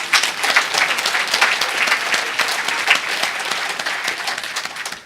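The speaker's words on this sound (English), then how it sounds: "Give yourselves a round of applause." A group at a memory-training session at a hacker conference applauds themselves, a steady, fairly loud wash of many clapping hands lasting the full few seconds without pause.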